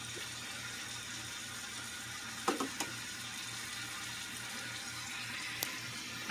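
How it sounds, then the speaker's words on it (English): Water drains out of a pasta pan through its perforated insert, a quiet steady trickle and rush broken by a couple of brief metallic clunks. "I really like this pan because it comes out, it has holes in it, and it drains."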